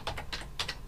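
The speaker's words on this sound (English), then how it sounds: "So you can use your keyboard as normal just to put in" Fingers tap on a computer keyboard, about five quick, crisp clicks in an irregular rhythm, close and alone.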